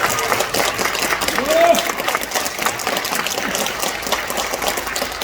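Audience applause at a South Korean political candidacy announcement for a National Assembly seat in Sejong, steady crowd clapping throughout with brief voices mixed in.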